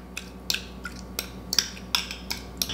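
A spoon scrapes and clinks around a bowl while stirring a salted egg yolk mixture for a prawn dish, giving a series of short, bright metallic taps in an uneven rhythm, close and fairly quiet.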